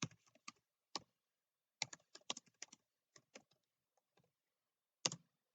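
Quick bursts of keystrokes on a computer keyboard while C++ code is entered, clustered presses separated by short pauses, close and crisp in an otherwise silent room.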